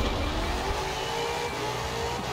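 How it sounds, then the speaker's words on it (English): Car wheel spin in the Forza Horizon 4 racing game, a steady loud engine roar with revving and faint tire noise, continuous and close, with no talking. "Ooh, yeah, that wheel spin."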